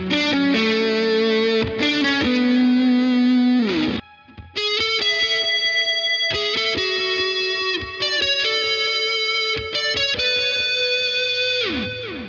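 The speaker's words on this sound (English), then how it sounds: "the big muff is for these soaring lead tones if I want it to have a lot of sustain" Electric guitar through a Big Muff fuzz pedal plays a soaring, sustained lead line, with thick distorted notes held long and bent, one brief break midway, loud and alone.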